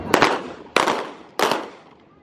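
Rifles fired in a kneeling drill display at an Air Force base in Ubon Ratchathani, Thailand, on Children's Day: three loud, sharp blank shots about two-thirds of a second apart, each echoing away outdoors.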